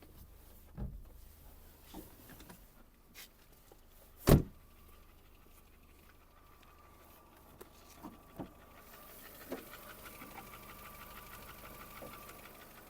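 A Skoda Fabia's 1.4-litre naturally aspirated engine idles steadily at low volume, with a few scattered clicks and knocks and one sharp thump partway through.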